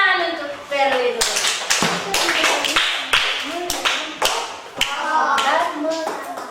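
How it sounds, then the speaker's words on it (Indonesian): Schoolchildren in a classroom clap for a classmate in a series of sharp, rhythmic bursts, with children's voices chattering between and over the claps. "Tepuk tangan untuk Perwi dulu."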